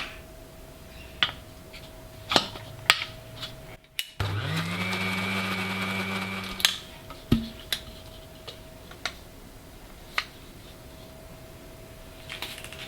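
A blender gives a batch of rescued, previously split mayonnaise one last quick blitz, with a steady, close motor whir of a few seconds set between light clicks and taps in a quiet kitchen.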